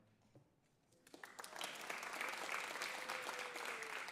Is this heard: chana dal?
no